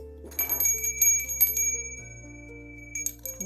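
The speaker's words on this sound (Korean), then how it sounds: "종소리가 예쁘죠?" Small metal bell of a handmade embroidered flower-wreath wind chime rings several times in bright, clear strikes, with a struck-metal clatter at the start and sustained high tones lingering near and fairly quiet.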